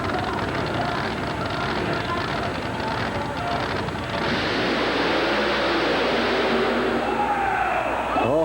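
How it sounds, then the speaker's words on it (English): A supercharged small-block Chevy monster truck at a 1990 USHRA mud and monster truck show in Baltimore roars in a steady, high-winding drone, with an announcer talking over the engine. "The supercharged small block Chevy makes noise like no other vehicle."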